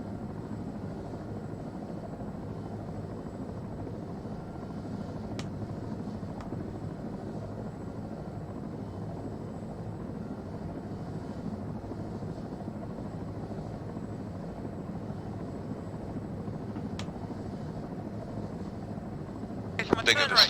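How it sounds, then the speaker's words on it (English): Aircraft engine in flight during orbits in a video game, a low, steady droning rumble with a muffled cockpit feel, a couple of brief clicks and a burst of noise at the end; a voice speaks over it. "I'm on the other seat in this aircraft, which means I should be doing opposite orbits."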